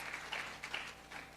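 Applause at a CDACT graduation ceremony in Grenada, a faint, thin round of clapping from a seated audience, heard at a distance with a few louder claps standing out.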